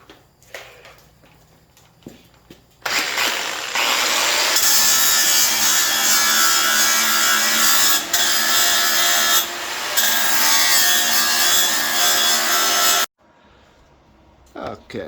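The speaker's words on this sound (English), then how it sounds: "For the grinding part, we're gonna use a little larger tool." A larger grinding tool works a tack weld joining a cast hub to steel, a loud continuous abrasive grind running steadily for about ten seconds with brief dips, framed by quieter handling noise before and after.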